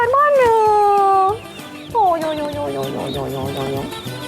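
Baby chicks on a poultry farm give short, high peeping chirps that come in scattered bursts in the second half, beneath a louder voice that talks and calls out.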